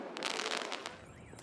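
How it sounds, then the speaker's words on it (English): Fireworks thrown by protesters at a Greek street demonstration crackle and bang in a quick burst of sharp, fairly close reports, then fade into noisy street ambience. "protesters threw petrol bombs and fireworks at the seat of power"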